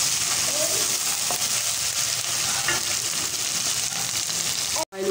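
Tomato paste fries in oil for dal makhani with a steady close sizzle and occasional stirring, ending in a brief sharp knock.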